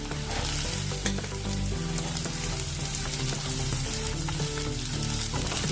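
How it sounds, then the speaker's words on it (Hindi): Onions hit a hot pan of frying methi (fenugreek) greens for a methi matar dish, giving a steady, close sizzle with occasional stirring, no voices. "अभी इसमें प्याज डालेंगे"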